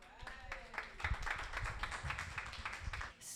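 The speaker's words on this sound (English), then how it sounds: "let's give another round of applause for Oz 9." Scattered, fairly faint handclaps from a live audience greet the Oz 9 outer-space sci-fi comedy troupe, individual claps standing out irregularly while voices murmur underneath.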